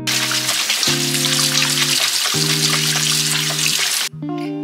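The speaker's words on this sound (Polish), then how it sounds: "I taką właśnie cebulkę dymkę umyjemy." Spring onions are rinsed under a running kitchen tap, a steady close splash of water over the stalks with a low hum behind it, then a brief cut near the end.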